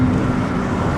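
A supercharged V6 in an MK5 Golf R32 drones steadily from inside the car as it drives on clear roads, a constant low engine and road hum, no voices.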